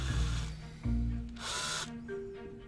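Power drill boring a pilot hole in a prop kit part, with short bursts of whirring motor that start and stop, close and fairly loud, separated by brief handling noises.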